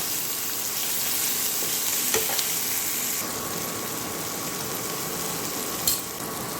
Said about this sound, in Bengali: আর এর মধ্যে একটু নুন অ্যাড করে আমরা এটা ভালোভাবে নেড়ে নেব এবং একটু ভাজা হতে দেব।